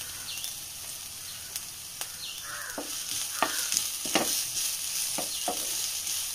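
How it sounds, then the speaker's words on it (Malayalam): Onion, ginger and garlic sauté in a pan for a Kerala egg curry. A steady sizzle runs throughout, with a spoon stirring and scraping in several distinct strokes. No one speaks. "ആ ഇഞ്ചിയുടെയും ഒക്കെ വെളുത്തുള്ളിയുടെ ഒക്കെ ആ പച്ച ടേസ്റ്റ് മാറുന്നേരം ഒന്ന് നമുക്ക് വഴറ്റിയെടുക്കാം"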